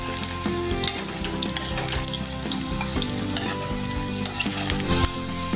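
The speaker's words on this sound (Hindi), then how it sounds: "जितने की कढ़ाई में आसानी से आ जाए अपने कोफ्ते हम डाल देंगे फ्राई होने के लिए।" Cauliflower and pea kofta deep-frying in hot oil in a kadhai give a steady, close crackling sizzle that runs the whole time, with a sustained tonal music bed underneath.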